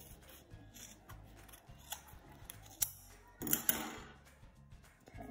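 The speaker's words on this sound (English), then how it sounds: "I'm going to continue to cut all the way around" Scissors snip through wound wool yarn while making a pom pom: a series of quiet, crisp cuts at an irregular pace, closer and louder toward the end, recorded up close in a quiet room.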